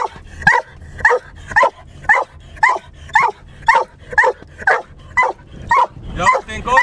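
A hunting dog on a hare chase barks in a steady, insistent series of about a dozen loud yelps, evenly spaced and close by, with a low rumble beneath.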